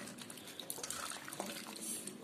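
Kitchen tap water runs softly and continuously while dirty ingredients are washed by hand, with faint splashes and drips throughout.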